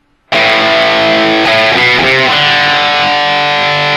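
Distorted electric guitar with palm muting, starting abruptly from silence into loud saturated chords, with choppy muted chugs in the middle before ringing out again.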